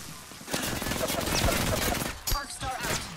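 Rapid gunfire bursts in Apex Legends combat, mixed with game voice lines and effects, fairly dense shooting across the moment with a sharp impact near the end, fairly quiet overall.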